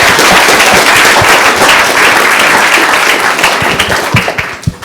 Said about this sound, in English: All right, let's have a round of applause for them.